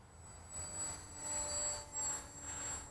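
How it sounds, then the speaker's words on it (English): Electric motor of a Bixler 1.1 RC plane in flight: a steady, faint whine outdoors, rising and falling slightly with passes, under light wind rush and without talk. "The motor isn't horribly whiny and noisy like the Bixler 2 and the Bixler 3 motors are."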